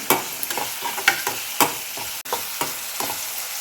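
Onions cooked down with turmeric and chili sizzle steadily in a pan while a spoon scrapes and stirs in repeated strokes, close up with no talk.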